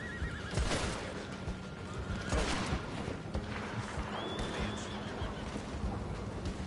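A horse in the video game Red Dead Online gives a clear whinny amid hoof clip-clops, with gunfire bursts scattered behind it in a busy game soundscape.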